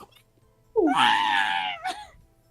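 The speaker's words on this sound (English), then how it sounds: "Like the R2D2 scream." R2-D2's droid scream sound effect plays: one loud, warbling electronic shriek that rises and holds for about a second, followed by a short chirp, alone over a faint background hum.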